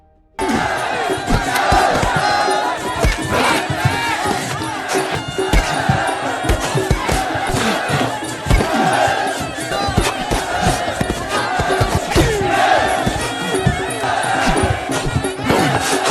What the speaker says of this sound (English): A large crowd of prisoners and high-ranking officers gathered to witness the match.